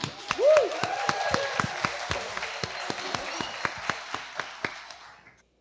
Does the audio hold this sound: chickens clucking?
no